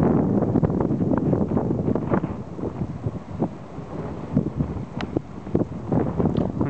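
Steady wind buffets the microphone in rumbling gusts atop an observation tower about 40 meters up, with brief louder bursts throughout and no voices.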